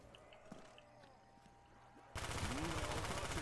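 Pump shotgun blasts in a zombies-mode first-person shooter, with a sudden loud burst of gunfire and chaotic action after a quieter stretch of game ambience.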